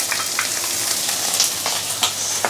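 Pickled mustard greens (ham choy) sauté in a hot pan, giving a steady close sizzle with scattered crackles and a few stirring scrapes, with no voices.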